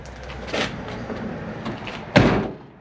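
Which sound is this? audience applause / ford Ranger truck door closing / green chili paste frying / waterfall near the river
ford Ranger truck door closing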